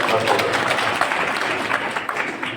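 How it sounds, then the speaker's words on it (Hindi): An audience at a public development-tour event claps in a dense, steady burst that lasts the whole moment, with crowd noise mixed in. "एक बार जोरदार ताली"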